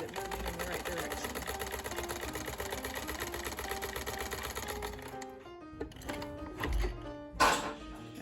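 A sewing machine stitches quilt fabric for a nine-patch square, running in a steady, close mechanical whir. It slows and stops near the end with a few soft thunks.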